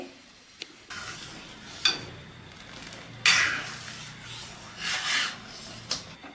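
Milk stirred in a pan over a medium gas flame to thicken it: soft scraping and rubbing strokes at irregular intervals over a low background hiss, close and fairly quiet.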